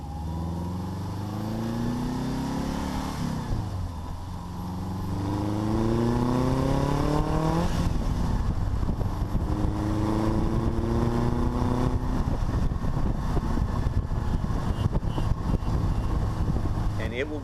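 Speedster kit car with a Subaru engine conversion and Subaru gearbox driving, engine pitch climbing through several gear changes then settling into a loud steady drone with wind noise, a voice briefly heard early on.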